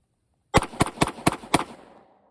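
Five quick, sharp gunshots from an M&P 5.7 pistol crack out in an even rhythm, close and loud, then a short echo fades into silence.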